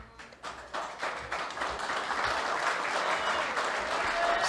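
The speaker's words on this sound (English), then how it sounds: "That entire back line cheered, clapped" At a Senate hearing, an audience breaks into applause, starting with scattered claps and swelling into sustained, dense clapping that continues to the end.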